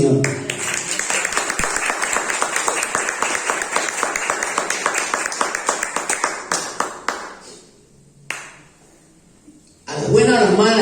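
Church congregation clapping for the Lord during a sermon, a dense run of claps that thins out and stops, followed by a brief pause before voices pick up again.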